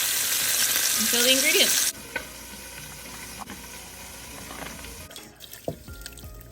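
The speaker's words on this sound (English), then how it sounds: "We're not cooking them, just searing them." Meat sears in a hot pan, a steady loud sizzle for about two seconds, then fades to quieter kitchen clatter, faint sizzling and water sounds as a voice talks briefly.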